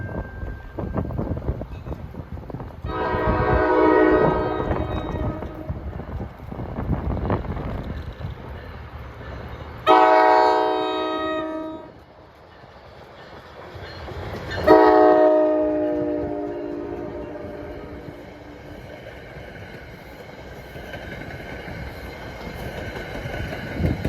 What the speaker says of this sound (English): here comes train 1859 out of Hoboken. Bound for Waldwick, he's got an ALP 45